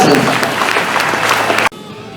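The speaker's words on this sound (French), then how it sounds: "vous pouvez les applaudir très très fort. Stéphane Robilu, Jessica Alvarez." A crowd at the Rallye National de Normandie motor rally claps loudly and steadily, then the applause cuts off abruptly near the end, leaving a quieter background.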